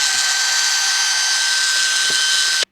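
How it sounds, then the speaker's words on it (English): A power drill spins a wire brush against an engine ground wire connection, a loud steady whirring grind that holds evenly for about two and a half seconds and then cuts off abruptly. "I'm going to hit that part with the ground with a wire brush"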